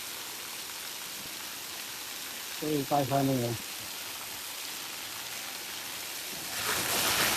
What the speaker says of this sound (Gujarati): વરસાદ એટલો બધો પડે છે ને આ ઘરે પાણી ભરાઈ ગયો.